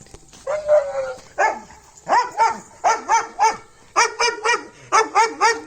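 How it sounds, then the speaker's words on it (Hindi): A German shepherd barks repeatedly at close range, sharp yelping barks in quick bursts with brief pauses between them. "नई चीज़ आई है और भौंकना शुरू हो गया इन पे"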